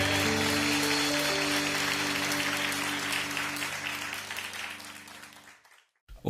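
A congregation at a Korean Baptist church's online dawn worship service gives loud, sustained applause over held keyboard chords, then the clapping fades and stops into brief silence.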